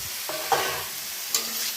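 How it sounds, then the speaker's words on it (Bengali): Dried lotka fish stirred into a frying masala of ginger, garlic, chili, onion, turmeric and salt, a steady close sizzle with a few spoon scrapes and clinks against the pan, no talking. "তারপরে নাড়তে থাকবে।"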